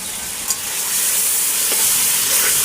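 Masala for chana pulao fries loudly in hot oil, a dense close sizzle with a brief utensil tap near the start and no voices.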